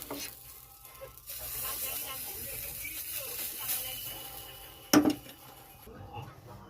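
A batter of milk, semolina and date jaggery is poured little by little into a hot pot, giving a steady close hiss and sizzle, with a sharp metallic clink near the end.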